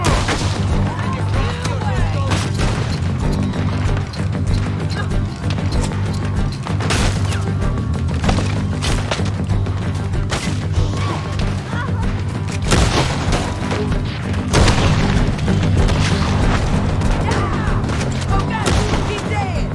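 A firefight with rifle gunfire in the video game Red Dead Redemption 2. Loud shots and heavy booming impacts repeat irregularly across a long, dense stretch, while voices shout over the fighting.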